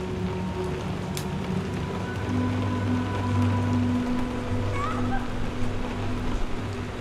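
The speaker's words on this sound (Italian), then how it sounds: "Piove." Steady rain from The Last of Us Part II falls as a broad, even hiss throughout, with low rumbling tones and faint game ambience underneath and no talking.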